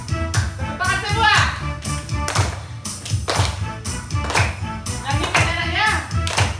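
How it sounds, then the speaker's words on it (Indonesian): A group of children at a school lesson clap and tap along to a children's song about fruit, with irregular claps and thumps mixed with voices singing and talking. "Tepuk tangan semua."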